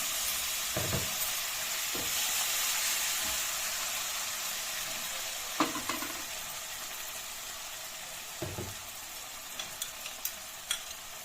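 Vegetable bhuna khichuri hisses steadily in a pan after a splash of water. A few louder spatters and light stirring clicks pop over the even, close sizzle. No one speaks.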